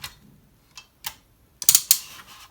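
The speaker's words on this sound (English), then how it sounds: "His shoulders are nicely ratcheted, and they can come up pretty far." Shoulder joints of a Fans Toys FT-08 Grinder Transformers figure ratcheting: sharp, close plastic clicks, a couple of single ticks first, then a quick cluster of louder clicks.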